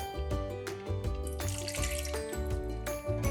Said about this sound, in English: To this I'll add a dash of water